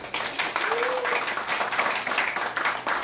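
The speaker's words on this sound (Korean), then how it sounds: "큰 박수로 환영해 주시기 바랍니다." Audience applause welcoming people to a 2015 National Assembly member's activity report meeting for local residents, steady clapping throughout with a brief tonal whistle-like sound and some voices mixed in.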